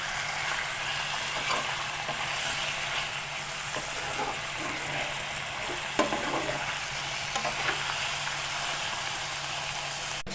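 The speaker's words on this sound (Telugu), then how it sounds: "నేను చికెన్ యాడ్ చేస్తున్నాను. ఇలా మంచిగా మిక్స్ చేసుకున్న తర్వాత" Chicken pieces sizzle in a pan of browned onions and are stirred in for a methi chicken curry, a steady close frying hiss with occasional scrapes and knocks of a spoon, no voices.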